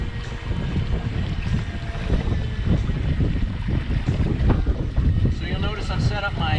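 Steady, loud wind buffeting the microphone aboard a Catalina 25 sailboat under sail, with water rushing along the hull throughout and faint creaks and clinks of rigging near the end.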